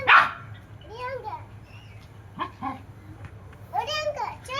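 A small puppy gives a few short, high yips and barks, close and intermittent, between a child's speech and other voices.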